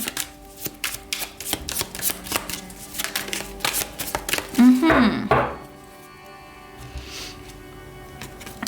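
Tarot cards being drawn and shuffled during a card reading: a run of soft, rapid riffling and flicking taps, with one louder burst of shuffling midway, close by and fairly quiet, fading toward the end.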